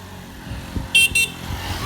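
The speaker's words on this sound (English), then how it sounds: "Honk if you're happy." A car horn gives two short, bright honks in quick succession, close and loud over a low hum of traffic.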